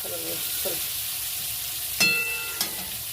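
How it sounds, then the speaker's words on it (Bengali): Pointed gourd (potol) frying in oil in a pan, a soft continuous sizzle with a couple of sharp clinks of a utensil against the pan near the end. "পটলটা একটু ভেজে নিলে খুব কড়া করে না ভাজলেও একটু লাল লাল হালকা লাল লাল করে ভেজে নিলে"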